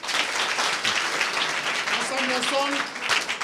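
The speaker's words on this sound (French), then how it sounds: "Applaudissez pour vous-même." Applause from a group of schoolchildren in a Guinean school session, dense and continuous clapping with voices mixed in throughout.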